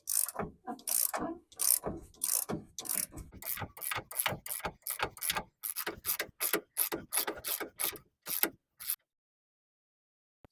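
Ratchet wrench backing off a 24 mm nut on a Nissan Frontier strut rod, a rapid run of loud, close clicking strokes in an uneven rhythm that stops abruptly near the end, leaving silence.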